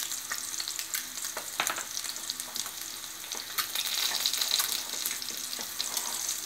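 Eggs frying in a spicy masala in oil in a pan, a continuous sizzle with intermittent spatula stirs and scrapes, the hiss swelling toward the end, no talking.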